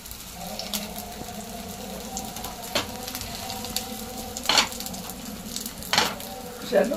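Potato tikki patties fry in a hot pan with a steady broadband sizzle, punctuated by a few brief louder crackles and spatters, close and continuous throughout with no talking.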